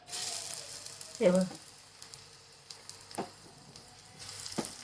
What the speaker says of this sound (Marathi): हे पण शॅलो फ्राय करून घ्यायचं वड्या पण आता फ्राय करून घेते